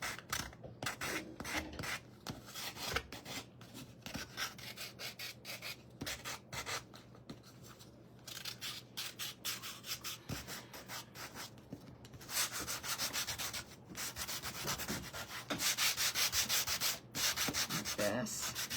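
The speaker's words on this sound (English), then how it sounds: "So let's get this sanded." A small wooden piece from a bee trio craft kit being sanded by hand, steady rapid rasping strokes close up, louder toward the end, with no talking.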